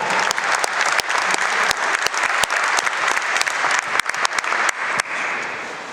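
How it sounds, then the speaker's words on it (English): A large audience gives a sustained round of applause at a high school football hall of fame induction ceremony, dense close clapping with sharp individual claps standing out, tapering to a quieter wash near the end. "I just want everybody to give him a round of applause"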